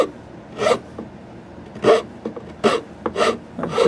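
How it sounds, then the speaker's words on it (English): A rasp files the wrist of a wooden rifle stock on a Lyman Great Plains Rifle kit, producing five or six separate close strokes with short pauses between them and no talking. "I'm just going to keep working this with my rasp"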